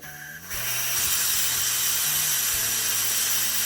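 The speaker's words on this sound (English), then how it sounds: "we are going to open the steam control valve to release all the pressure from the pressure cooker" A loud, steady hiss of steam escaping a pressure cooker's release valve after boiling beans bursts in and holds, with a low droning hum underneath that shifts pitch now and then.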